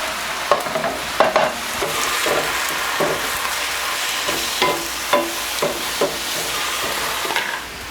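Garlic sizzles steadily in a hot pan with a splash of water, with repeated scraping and clinking strokes of a stirring utensil over the constant frying hiss.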